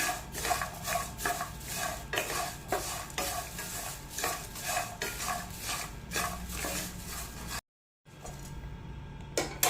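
Black pepper dry-roasting in a hot pan, stirred in a steady rhythm of scraping and rattling strokes with faint sizzle, close, broken by a brief silent gap near the end.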